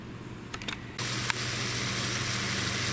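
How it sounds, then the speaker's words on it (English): Ground meat frying in a pan, a sudden broad sizzle that rises after a few soft knocks and then holds steady and fairly loud, with no voices. "so the meat is cooking nicely now"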